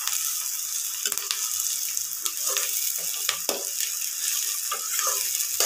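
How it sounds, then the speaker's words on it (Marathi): Onion, turmeric, peanuts, cumin, curry leaves and chillies sizzle in hot oil for poha, a steady bright hiss broken by scattered crackles and a few stirring scrapes. "चला तर आता ह्यात कांदा, हळद, शेंगदाणे, जिरे, कढीपत्ता, मिरची सर्व टाकलेले."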